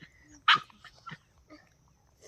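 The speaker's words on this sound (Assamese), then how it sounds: "কুকুৰটো ভালকে খেদি যাব নে আপোনালোকে খেদি গৈছে কুকুৰ" A dog barks several times while being chased off, one loud sharp bark followed by a few shorter yips and a whimper, fairly close, with brief voices in between.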